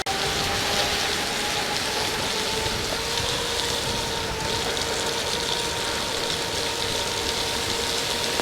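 Heavy rain pours in a steady, dense hiss during an E300 electric scooter ride by Lake of the Isles, with a faint whine running underneath, constant and close with no talking.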